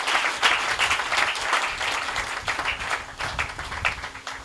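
A church congregation at a French-language service claps and applauds, a fairly close, busy patter of hands with a few louder individual claps, steady for several seconds.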